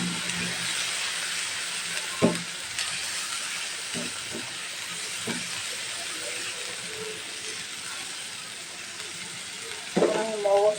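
Ground spices with coriander and garam masala powder sautéing in a pan for a beef brain dish, a soft steady hiss and sizzle with occasional utensil knocks and scrapes, a brief voice near the end.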